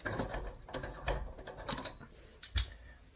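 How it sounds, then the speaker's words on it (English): Old radiator thermostatic valve being unscrewed by hand, close-up clicky mechanical ratcheting and scraping in short irregular bursts, ending with a sharper knock. "So you just unscrew it"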